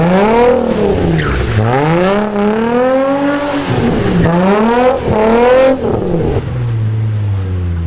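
A car engine revs up and down repeatedly while tires squeal and skid in long sweeping waves, loud and close, as the car spins in circles.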